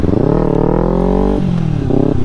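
A Honda Activa scooter's engine hums steadily while riding, close and loud, with a brief dip in pitch midway before the drone resumes.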